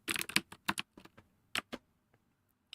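Computer keys clack in uneven bursts, close and crisp, with short pauses between runs of typing and a few isolated taps.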